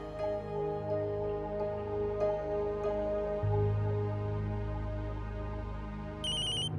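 A telephone rings with an incoming call in a domestic drama scene, a steady melodic ringtone repeating throughout at moderate volume, with a higher tone chiming in near the end and no voices.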